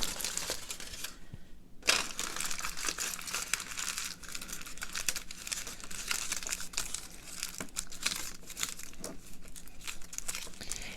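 Aluminum foil crumpled by hand against wet watercolor paint, steady crinkling and crackling close up, with short crisp crunches and a brief quiet gap near the start.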